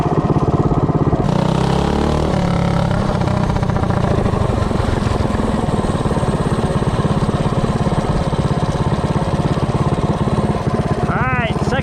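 Coleman CC100X minibike with a Predator 212 engine and 12-tooth racing clutch roars loudly and steadily while accelerating from 0 to 30, a buzzing single-cylinder drone heard up close throughout.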